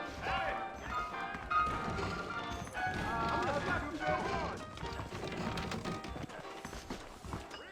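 Faint, rhythmic clip-clop of horse hooves in the video game Red Dead Redemption, quiet and partly masked by talking voices and background score.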